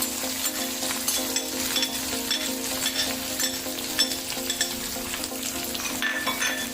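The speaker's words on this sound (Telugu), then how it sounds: "వేగినాక ఆనియన్స్ వేసుకున్నాం" Onions frying in hot oil with green chillies, cumin, mustard seeds and fenugreek for a gongura curry, a steady close sizzle with light stirring scrapes and clinks, no talking.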